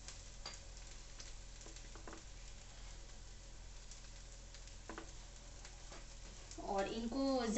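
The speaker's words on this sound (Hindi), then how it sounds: "1 चम्मच और घी इसमें ऐड करूँगी ताकि ये नीचे से भी मेरी अच्छे से सिक जाए।" Ramdana (amaranth) tikki frying in ghee in a pan gives a steady, even sizzle throughout, with faint clicks of utensils and a brief voice near the end as the sizzle grows a little louder.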